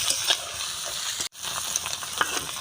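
Chowmein noodles seasoned with turmeric powder and salt fry in a hot pan with a steady, close sizzle and occasional stirring scrapes. A brief break falls midway.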